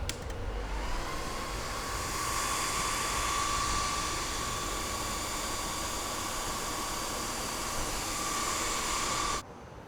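A UV curing light on furniture runs with a loud, steady hissing whir and a thin high tone, holding constant for about nine seconds before cutting off abruptly.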